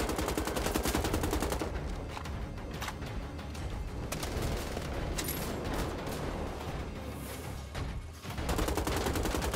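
Rapid automatic gunfire from the video game Wolfenstein: The Old Blood rattles almost nonstop, loud and close, with bursts of shots layered over each other and a few heavier blasts.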